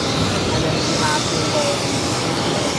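American Airlines flight 1632 jet taking off from Boston Logan bound for LAX, a loud, steady roar of jet engines filling the air throughout.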